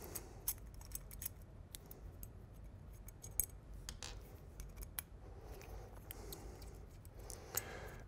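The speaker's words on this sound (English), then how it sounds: "So first, we're removing the four screws." Four screws are worked out of an ARRI SSB-6 stabilizer system bracket: faint, close, scattered metallic clicks and small ticks over a quiet background hiss, with no talk.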